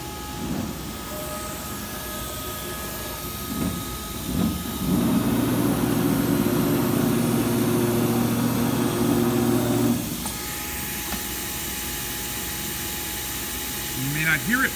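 MultiCam 3000 series 4x8 CNC router spindle with a 3/8 compression cutter spinning up to 6,000 RPM during warm-up, a steady loud whirring hum that rises abruptly, holds for about five seconds, then drops back to a quieter machine drone.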